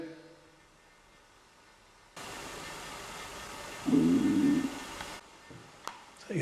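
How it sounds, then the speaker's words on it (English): A loud stomach rumble inside the Morecambe Winter Gardens, a low gurgling burst of about a second that stands out over a steady hiss of room noise in an otherwise quiet hall. "that was a loud stomach noise"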